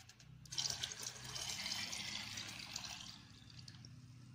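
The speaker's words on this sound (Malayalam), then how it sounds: "ഇരട്ടി വെള്ളം ഉപയോഗിച്ച് നിറപ്പിക്കേണ്ടതുണ്ട്." Water pours steadily into a container to dilute a strained tobacco decoction for a garden spray, a continuous splashing stream, close and fairly soft, with no talking.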